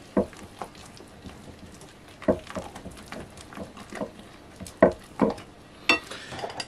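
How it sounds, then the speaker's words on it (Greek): Cake batter made with apple or banana and baking powder is stirred in a bowl, with intermittent clinks and scrapes of a utensil against the bowl at an uneven pace, close by. "Ανακατεύουμε."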